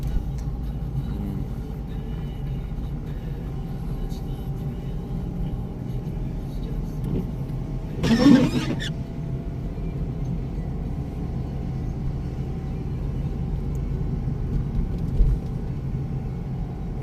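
A car engine hums steadily with low road rumble throughout, a brief louder whoosh passing midway, while voices talk over it, while driving a driving-exam course in İzmit, Turkey.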